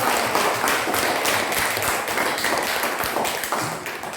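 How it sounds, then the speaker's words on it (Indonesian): Applause from a primary school class for a student group after their experiment presentation, steady dense clapping filling the room for several seconds without talk. "Tepuk tangan untuk kelompok jeruk."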